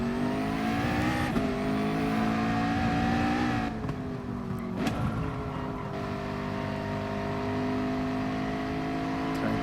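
Racing car engines drone loudly in GT Sport at the Barcelona circuit, a dense mix of high engine tones that rise and fall through gear shifts, with another car close behind and the pitch swooping as engines rev and lift.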